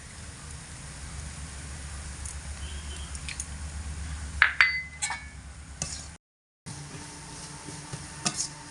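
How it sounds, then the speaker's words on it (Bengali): Grated raw potato ghonto with garam masala stirred over low heat, a soft steady simmer with a few light clinks and scrapes of a spatula against the pan, with a short dropout partway through. "গরম মশলা দিয়ে হাফ মিনিট মতো এইভাবে নাড়াচাড়া করে লো আঁচে রেখে আলুর ঘন্টটা তৈরি করে নিয়েছি"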